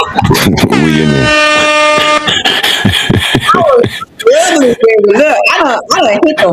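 Air horn sound effects blaring a loud, sustained harmonic blast at close range, followed by more horn-like toots mixed with lively, overlapping talk from several people.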